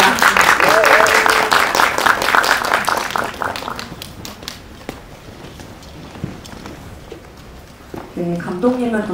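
Applause from a press-screening audience welcomes the director and actors of a teen queer film, starting as dense loud clapping with some cheering, then thinning to scattered claps before a voice speaks near the end.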